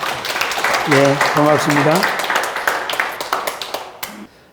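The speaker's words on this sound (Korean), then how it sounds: "우리 박수 한번 하실까요?" A church congregation bursts into applause right after someone speaks briefly, with dense, close hand clapping that thins into scattered claps as it fades out.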